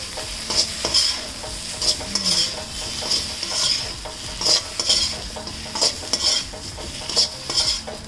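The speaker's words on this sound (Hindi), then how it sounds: "लहसुन अदरक का पेस्ट जो है वो मैं इसमें ऐड कर रही हूँ, और हम प्याज भी मैं इसके साथ ही ऐड कर दूँगी ताकि प्याज भी अच्छे से सौते हो जाए" Garlic-ginger paste and onion sautéing in mustard oil in a pan, a continuous sizzle broken by regular metallic scrapes of a spoon stirring against the pan, close and without voices.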